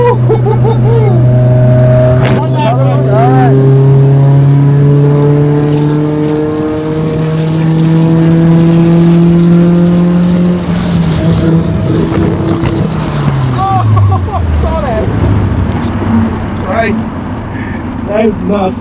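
A Mazda Miata with individual throttle bodies and a flame tune revs hard and close, its engine note climbing and falling across several blips, with sharp exhaust pops and crackles as the revs drop.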